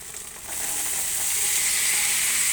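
Boiled kidney beans tipped into hot oil tempering, a sudden loud hiss that swells within half a second into a sustained, bright sizzle, close and without voices.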